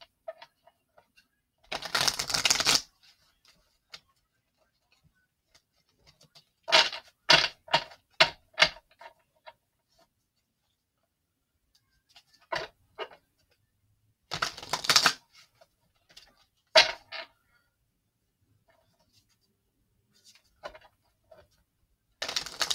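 Several short bursts of tarot cards being riffled and shuffled, close up, separated by quiet pauses and quick tapping sounds; no talking.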